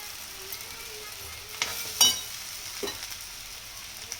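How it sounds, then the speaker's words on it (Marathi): Flattened rice tipped into a pan of kanda poha and stirred, a faint low sizzle with a few brief scraping rustles and light clinks, quiet and close, with no talking. "पोहे टाकून घेते सगळे"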